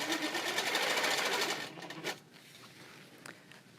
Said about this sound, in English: And now I'm going to stitch into my applique and back to my border